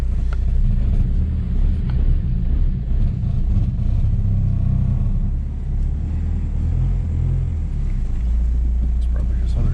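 A car engine that runs rich and smokes is driven, giving a steady loud low rumble with slight surges as it pulls along. Talk is heard over the drone.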